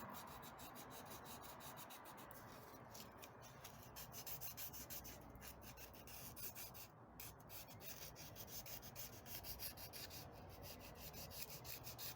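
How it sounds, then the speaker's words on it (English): Steady rasping of sandpaper rubbing back and forth inside a car's interior door handle bezel, close and continuous, with a gritty scratchy texture and no pauses. "I sanded down the inside of where the speaker cover was."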